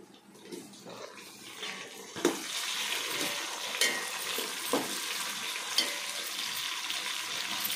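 Tomatoes hit hot oil in a pan for chicken biryani and sizzle steadily, with a bright continuous frying hiss and occasional stirring clatters over about eight seconds, close and moderately loud.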